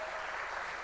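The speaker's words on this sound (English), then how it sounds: "Please give her a big round of applause for that." Audience applause at a university summit for a student who is a top-ranked exam achiever: dense, steady clapping filling the whole short stretch without pause, at a moderate, even level.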